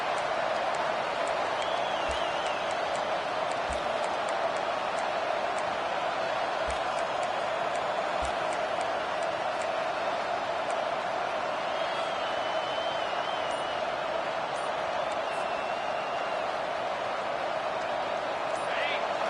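A stadium crowd roars at a football game, a steady dense wash of cheering and noise behind a commentator talking throughout, with occasional distant whistles.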